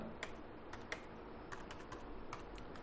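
Computer keyboard typing a name into MS Word, with quick clusters of sharp key clicks at an uneven rhythm, close and fairly quiet, with no voices.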